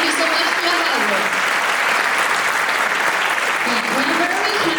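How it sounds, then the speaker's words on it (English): Sustained audience applause at a Chinese New Year community gathering, steady and dense clapping throughout with voices faintly mixed in the background. "Let's give them a round of applause."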